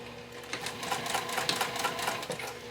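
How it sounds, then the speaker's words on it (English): Sewing machine stitching around the edge of a fabric beauty bag, a steady rapid mechanical whir with fast needle ticking running continuously and close up, no talking. "I'm going to speed this up and sew around here"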